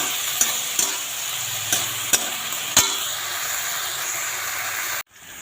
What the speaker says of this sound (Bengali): আমি মূলাটা ভেজে নামিয়ে নিয়ে আসছি